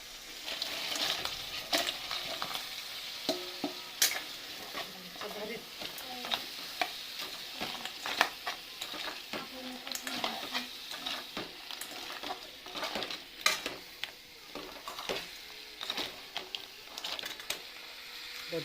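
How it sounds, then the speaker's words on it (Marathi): Crabs fry and get stirred in a pan: a steady sizzle with irregular scraping and clatter of the spoon, close up and fairly soft, with no talking. "खेकडे टाकून घेऊया त्याच्यात."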